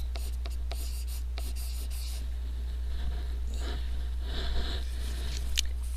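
A pen writing on a paper chart, a series of short scratchy strokes close by over a steady low electrical hum, with no talking.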